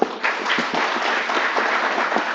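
An audience at a campus event gives a big round of applause at the opening. The clapping is loud and sustained, with no voices over it.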